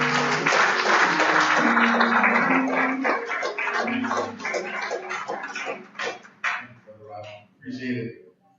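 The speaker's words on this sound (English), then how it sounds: "Give him a round of applause for me" An audience applauds at a benefit concert, with loud dense clapping that thins into scattered claps and fades out, while voices carry over it.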